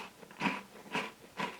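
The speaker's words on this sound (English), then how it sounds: "The crunch is fine. Crumbles nicely under your teeth." Three crunchy bites or chews into a Kinder Duo chocolate wafer, evenly spaced soft crunches, close but quiet.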